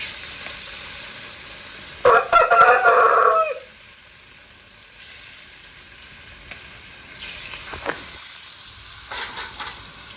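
Fish pieces go one by one into hot oil with a little salt, setting off a loud, close burst of sizzling that lasts about a second and a half. It then drops to a quieter background with faint clatter.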